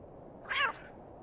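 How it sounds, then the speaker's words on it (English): A cat named Herbert in The Excavation of Hob's Barrow gives a single short, clear meow, close and alone over a low steady hum. "Oh, it's a cat."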